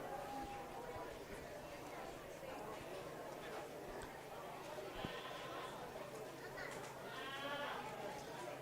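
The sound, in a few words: goats bleating at county fair goat show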